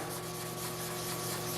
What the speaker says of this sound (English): Need a bit more sanding.